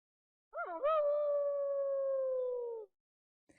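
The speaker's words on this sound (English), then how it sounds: "It's a wolf howl that I got off online, and I had to edit it because I wanted it to be a little more dramatic." A wolf howl sound effect, edited to sound more dramatic, rises with a wavering start and then holds one long, clear, mournful tone for about two seconds before cutting off into silence.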